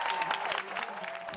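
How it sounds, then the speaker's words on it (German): Applause from an audience greets the winner at the German Musical Theatre Awards, a short burst of many hands clapping with some crowd noise and a voice speaking over it. "Applaus für den Kollegen."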